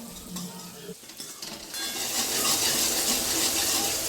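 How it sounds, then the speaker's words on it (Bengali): Chopped onion, green chili, dried red chilies and panch phoron fry in hot oil in a wok for cauliflower manchurian, starting with stirring clatter before swelling into a loud, continuous sizzle. "কড়াইতে তেল গরম করে দুটো শুকনো কাঁচা লঙ্কা এবং গোটা গোটা চিড়ি করে রাখা পেঁয়াজ কুচি লঙ্কা কুচি এবং পাঁচফোড়ন দিয়ে প্রথমে ভেজে নিল"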